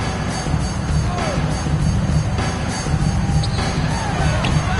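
A packed basketball arena crowd roars steadily in the closing seconds of an NBA game, a dense, loud wall of cheering and shouting with occasional whoops and bangs, under an announcer's talk.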